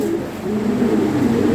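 Pigeons sold as racing birds at a breeder's loft coo steadily and close by, a continuous low warbling with no talk.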